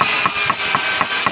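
A hammer strikes a chisel in a steady rhythm, with sharp regular taps about four times a second over a constant mechanical hum close by.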